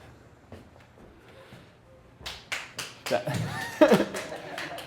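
Quiet murmuring gives way to a rising patter of applause mixed with chuckles and laughter from an open mic comedy audience, swelling toward the end.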